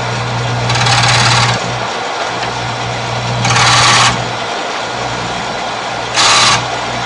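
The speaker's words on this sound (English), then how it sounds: "Now the parting tool is sharpened right here in this groove at the back of the jig" A Shopsmith SS104 grinds a parting tool chisel held in the groove at the back of a sharpening jig, three loud hissing grinding bursts, one side then the other, over a steady motor hum.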